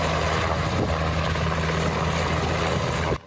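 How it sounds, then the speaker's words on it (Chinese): Rescue helicopter from the Henan brigade flying in to a mountain accident scene, a steady loud rotor and engine drone with a low pulsing hum that holds throughout and cuts off abruptly at the end. "河南总队救援直升机飞到案发现场"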